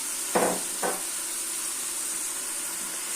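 Asparagus drops into a hot frying pan already holding onion and chicory for a vegetable stew, giving two short bursts of sizzle over a steady background hiss.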